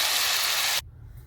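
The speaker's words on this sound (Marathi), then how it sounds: "आता अशा प्रकारे मी राहिलेले तळून घेते." Wheat flour snack pieces deep-frying in hot oil, a loud steady sizzling hiss that cuts off abruptly partway through, leaving quiet low background.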